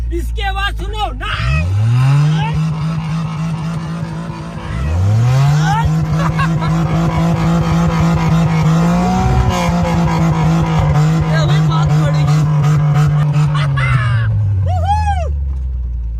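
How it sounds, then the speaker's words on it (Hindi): A four-wheel-drive car driving through mud revs hard twice, its engine climbing and then holding a loud, close drone before settling, while people talk over the noise. "उतने कीचड़ के अंदर भी ये गाड़ी नहीं बैठी क्योंकि चारों व्हील एक साथ काम कर रहे हैं।"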